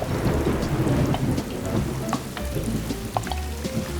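Steady heavy rain pours down with low rumbles of thunder rolling underneath, a continuous storm wash with no voices.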